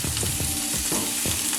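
A ribeye steak is seared in an oiled frying pan while being pressed down, giving a loud, continuous sizzle with a few rhythmic bursts and no talking.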